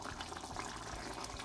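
Yogurt liquid simmers with the lid off in a pot of chicken karahi, a steady, faint bubbling hiss that stays even throughout with no talking.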